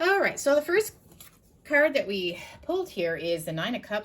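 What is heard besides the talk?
No everyday noise stands out behind the speech.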